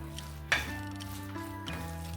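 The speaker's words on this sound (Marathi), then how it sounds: "आता आपण बारीक केलेले जे टोमॅटो होतं ना ते घालून घेऊया आणि छान असं आता ह्याला आपल्याला परतून घ्यायचं आहे." Chopped tomatoes drop into a pan of hot spices with a sharp splash, then a soft sizzle and a brief stir as they start to sauté, heard close up with a faint background hum.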